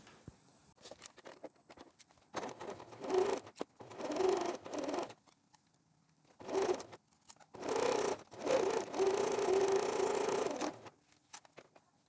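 Short runs of a sewing machine stitching along a bra cup, several bursts of fast buzzing patter, close and clear, separated by quiet pauses.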